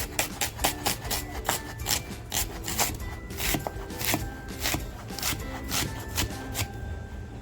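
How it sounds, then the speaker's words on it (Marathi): Onion being finely chopped with a knife on a board, a quick series of rhythmic, close, crisp cuts that continues steadily throughout. "कांदा बघा आपला एकदम बारीक कापून झालेला आहे"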